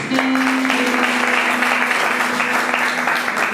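A church congregation at a French-language evangelism service applauding and cheering for Jesus, loud sustained clapping from a large crowd with a held tone and voices mixed in throughout.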